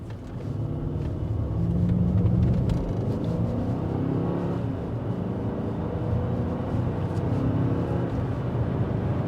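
A high-mileage Mercedes S550 engine roars as it accelerates hard, pitch climbing, then steadies into a deep rumbling drone of road noise.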